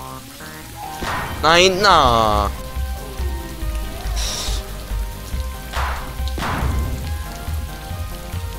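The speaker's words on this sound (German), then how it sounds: "Warum regnet's bitte?" Steady rain patters throughout the video game Electronic Super Joy, a continuous hiss under an excited player's voice and electronic game music.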